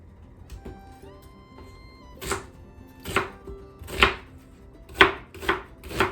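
A knife chops a sweet onion into chunks on a cutting board. The cuts come as sharp, close thumps, sparse at first and then in a quicker run of several strokes over a faint background.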